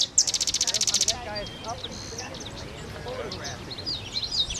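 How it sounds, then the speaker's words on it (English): A sedge wren sings outdoors, opening with a rapid, loud, rattling series of high notes, followed by softer scattered chirps and twittering phrases. "You're looking here at a sedge wren."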